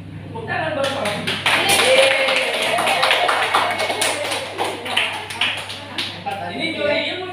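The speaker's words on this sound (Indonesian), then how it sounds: "Tepuk tangan" Applause from a small audience at a teachers' sharing session, a handful of people clapping in a loose, uneven patter, with voices murmuring and some talk mixed in over a low hum.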